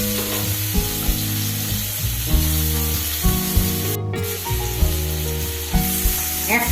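Marinated prawns sizzle in hot oil as they are turned to fry the other side, with a steady close crackle, a few scraping and clinking sounds, and a sharp burst near the middle.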